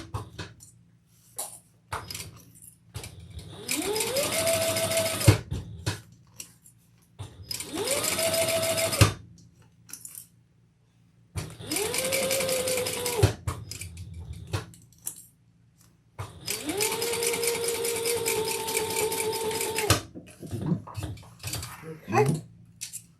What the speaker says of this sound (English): I'm just going to top stitch this trim piece